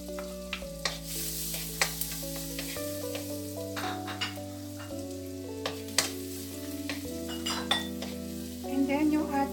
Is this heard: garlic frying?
yes